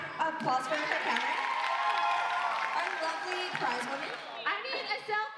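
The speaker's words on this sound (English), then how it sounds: "Everyone give a round of applause for the camera." An audience at a youth ministry event claps and cheers together, a steady loud wash of applause and crowd noise lasting several seconds with voices mixed in.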